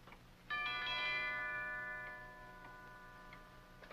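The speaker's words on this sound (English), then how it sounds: "He just rang the bell again and then stood there." A doorbell rings once with a bright chime that rings out and slowly fades, heard indoors over a faint ticking clock in a quiet 1951 film scene with no talk.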